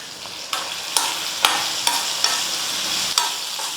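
Vegetables stirred in a hot pan with tamarind, turmeric and salt, a steady sizzle broken by regular scraping strokes of a spoon about twice a second, close and loud.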